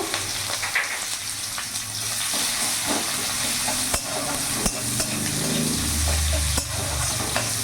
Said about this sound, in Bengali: এরই মধ্যে একটা পেঁয়াজ কুচনো নিয়েছি, পুরোটা দিয়ে দেবো।